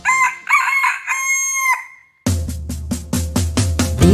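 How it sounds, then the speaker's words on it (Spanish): Rooster crowing in a children's song, heard as a loud, clear cock-a-doodle-doo in the first half against a quiet background, followed by a thumping musical beat with rhythmic percussion hits. "Dime si tú sabes cómo hace el gallo, vamos a escucharlo tú y yo."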